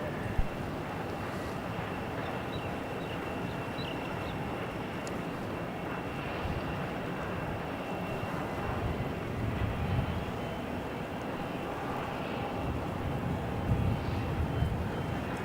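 A United airliner taking off from runway 34 at Melbourne Airport produces a steady, distant broadband jet roar that slowly grows a little louder, with no talking over it.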